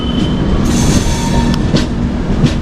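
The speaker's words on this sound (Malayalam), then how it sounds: "അങ്ങനെ നമ്മൾ കോഴിക്കോട് സ്റ്റേഷനിലേക്ക് പ്രവേശിക്കുകയാണ്." Netravati Express rolling into Kozhikode station in Kerala, a steady loud rumble of rail wagons with faint wheel squeal and a few rhythmic clicks over the track, no voices.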